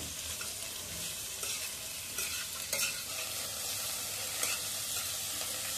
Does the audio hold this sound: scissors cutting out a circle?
no